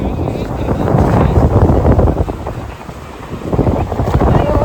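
Strong wind buffets the microphone in loud, continuous roaring gusts by the sea at Varkala in Kerala, with rising waves blending into the broad rushing noise throughout.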